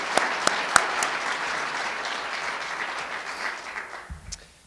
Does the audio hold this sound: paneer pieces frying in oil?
no